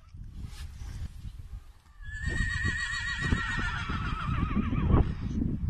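Horses neighing and calling to each other after arriving home from a trailer, a loud drawn-out whinny with a quavering tail rising over shuffling hoof and movement noise, close by.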